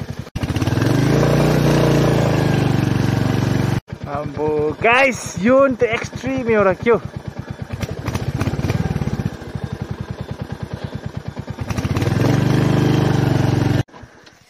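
Royal Enfield Hunter motorcycle riding off-road, its engine droning steadily and loudly throughout with wind buffeting, while someone talks over it.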